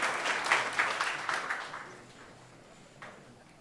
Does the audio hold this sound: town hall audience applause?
yes